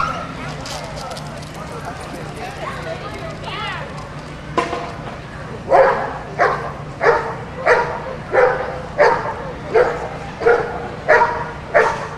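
A dog at an outdoor police community night event gives a run of loud, regularly spaced barks in the second half, after quieter whimpering and background voices.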